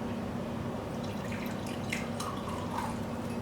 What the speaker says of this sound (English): And then we're gonna add to that a 1/3 cup of plain white vinegar.